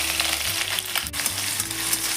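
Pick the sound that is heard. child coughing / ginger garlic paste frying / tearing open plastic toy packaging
ginger garlic paste frying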